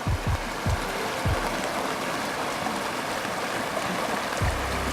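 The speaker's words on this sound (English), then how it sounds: "The swollen creek." Steady rushing water fills the scene with a constant broadband roar, a creek swollen after rain flowing nearby, with a few low thumps.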